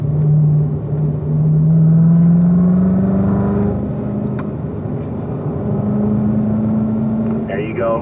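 A car engine pulling out of a turn, its tone rising steadily as it accelerates, loud and close, with a voice talking over it.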